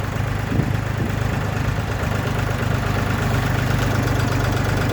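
A Lovol 244 tractor's diesel engine runs steadily at close range while turning at full steering lock, a loud continuous low rumble with no talk.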